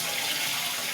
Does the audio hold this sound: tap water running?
yes